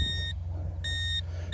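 A metal detector sweeps over a piece of iron dug from the ground and gives two sustained electronic tones separated by a short gap. The beeps sound thin and fairly faint over a low background rumble.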